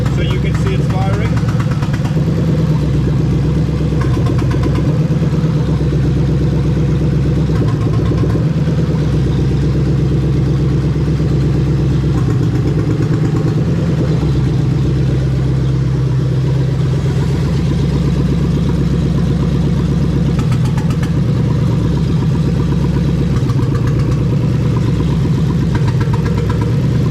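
A Lexus SC430 3UZ-FE VVT-i V8 runs loud and close on a manual-swap engine harness, a steady, unbroken engine drone with a low rumble while each injector is fired in turn.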